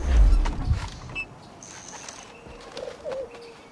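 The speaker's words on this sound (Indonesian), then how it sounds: "Oh, burung nih." Birds flutter free from a cage in the pirate game Assassin's Creed Black Flag, with a burst of close wing flapping at the start, then a few faint chirps and soft calls against quiet ambience.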